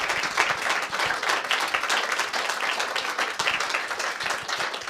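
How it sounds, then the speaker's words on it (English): An audience at a talk event applauds, a dense and steady wash of many hands clapping at an even level throughout, with no one talking over it. "Big round of applause and a big thank you."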